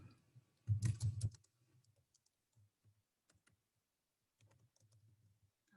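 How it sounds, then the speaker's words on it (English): A quick burst of keyboard typing, then scattered soft key clicks and a few taps spread over a quiet background. "I'm just typing some information so it goes way away."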